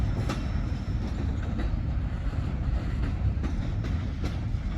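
A Norfolk Southern freight train of empty grain cars rolls steadily past nearby, a continuous broadband rumble with faint periodic clicks from the wheels over rail joints, with no talking.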